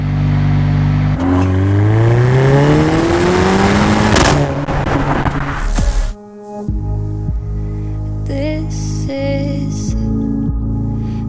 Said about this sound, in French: quand on passe les rapports, les petites explosions à l'échappement, enfin petites, les grosses explosions à l'échappement